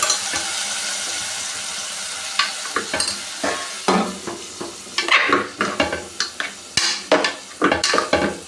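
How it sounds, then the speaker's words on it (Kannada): Cooked toor dal is mashed in a pot for brinjal sambar: a steady hiss gives way to rhythmic wet squelching strokes with occasional scrapes, close and fairly loud, and nobody speaks. "ಇದರಲ್ಲೇ ಮಸ್ಕೊತಾ ಇದ್ದೀನಿ ನೋಡಿ ಇಷ್ಟೇ ಚೆನ್ನಾಗಿ ಮಸ್ಕೊಂಡಿದ್ದೀನಿ"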